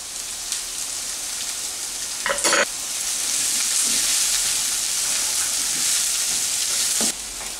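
A clove of garlic fries in a pan for jackfruit 'meat', a steady loud sizzle throughout with a brief stirring clatter partway through and a short scrape near the end.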